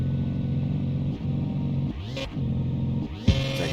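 Buggy engine in the Mon Bazou driving game revving repeatedly, rising and falling pitch sweeps over a steady idle drone, with a sharp jump near the end; no talk.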